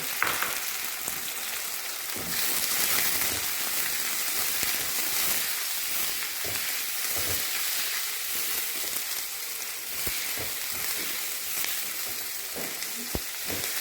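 Chopped onions frying in hot oil with cumin seeds and bay leaf, a dense continuous sizzle with intermittent spoon clinks and stirring scrapes, close and steady throughout.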